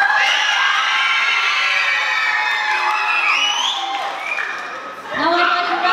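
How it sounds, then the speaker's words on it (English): Audience at a school debate between Year 9 pupils and teachers cheers, whoops and applauds for the proposing team, a dense, loud crowd roar with high children's shouts throughout that dips briefly near the end before swelling again. "Can I have your round of applause for the team that proposed the motion"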